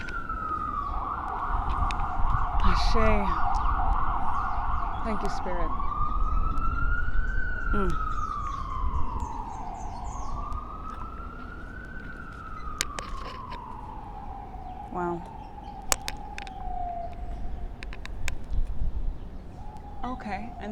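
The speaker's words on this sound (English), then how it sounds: "Let's let the sirens pass." Emergency sirens wail past outside a balcony, their rising and falling sweeps swelling and fading over about twenty seconds beneath steady traffic rumble, while a person speaks briefly nearby.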